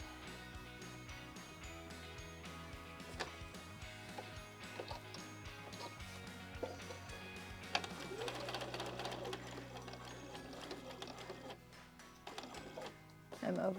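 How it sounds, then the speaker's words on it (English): A sewing machine stitches across a seam in curved quilt piecing, a quiet run of rapid mechanical ticking with a busy tonal background and what may be a voice. "I'm putting a pin right after the seam so that I can sew over the seam."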